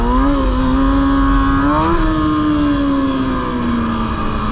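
A stunt motorcycle engine revs and pulls away in a car park, loud and close, its steady drone rising in pitch briefly before settling into a constant hum as the bike rides off.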